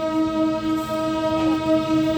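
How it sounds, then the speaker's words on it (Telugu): The Ratnachal train pulls out of Tuni railway station, its horn holding a steady, loud, layered tone for the whole stretch over a low rolling rumble of the moving cars. "సో తుని నుండి అయితే మన ట్రైన్ అయితే బయలుదేరిపోయింది"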